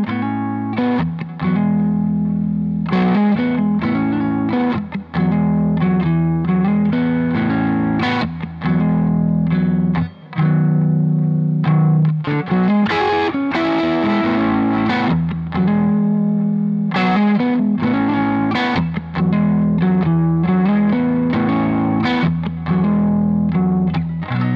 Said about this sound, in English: It's the fuzz on full, tone sort of tweaked again to taste, and rolling back the volume on the guitar.